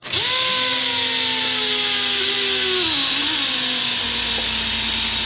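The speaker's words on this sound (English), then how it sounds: "the pneumatic die grinder is already starting to bog down" A pneumatic die grinder screams at high speed, then its pitch sags and wavers as it bogs down under load, a loud, close, continuous whine with an air hiss.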